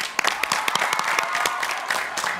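Studio audience on a Turkish word game show breaks into steady, dense applause, many hands clapping together at close range with a few sharper claps standing out, no voices over it.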